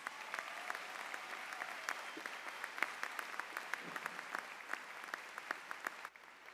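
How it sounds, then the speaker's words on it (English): Graduation audience at a law school commencement claps steadily and softly from a distance, a sustained patter of many hands with a few sharper claps, tapering off at the end. "Let's give all of you a round of applause."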